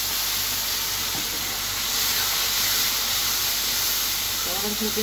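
Ginger garlic paste with cumin frying in a pan after browned onions: a loud, continuous hissing sizzle from start to end, close by, with a faint voice briefly near the end.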